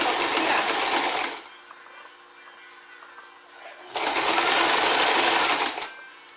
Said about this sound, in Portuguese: É só costurar.